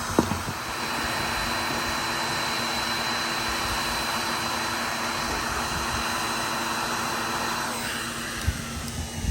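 Heat gun running on its high setting, used to heat a roof rail plug while fitting a roof rail and side ladder to a Thor Tranquility RV: a steady loud blowing roar with a faint motor whine, continuous throughout.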